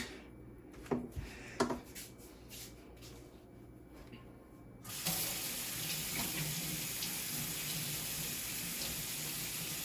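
Cassava being washed under running tap water in a kitchen sink, a steady close splashing stream that starts midway after a few soft clatters and knocks.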